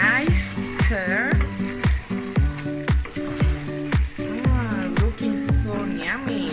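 Chicken breast and vegetables sizzle and fry in a pan while being stirred, a loud steady crackle broken by repeated scraping strokes, with a voice talking over it.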